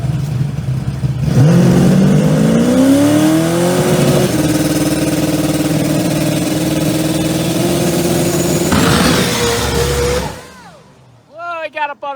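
A supercharged Pro Mod drag race car engine with a screw blower or ProCharger roars loud and close at the starting line, its pitch climbing, then holding a steady high-revving scream for several seconds before cutting off abruptly, followed by brief chirping sounds.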